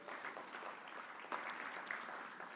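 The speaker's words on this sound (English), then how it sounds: "A round of applause." Audience at a closing agricultural research conference applauds its theme chairs, a steady wash of many hands clapping at moderate, fairly distant level, with no talk over it.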